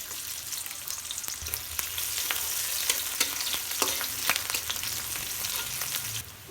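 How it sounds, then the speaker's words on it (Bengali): Onions drop into hot oil for a lentil and vegetable dish, building into a steady close sizzle with scattered clicks of stirring before it cuts off abruptly. "তেল গরম হয়ে গেছে, দিয়ে দেবো পেঁয়াজ,"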